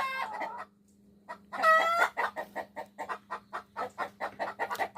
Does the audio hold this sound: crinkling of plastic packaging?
no